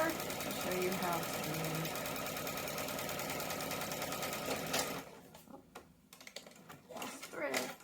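A sewing machine runs steadily as it stitches jelly roll quilt pieces, a loud continuous mechanical whir that stops partway through. Light handling noises and a voice follow.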